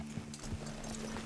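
Horse hooves clip-clopping in the Western video game Red Dead Redemption 2, a close, steady walking rhythm of hoof strikes over a constant low background hum.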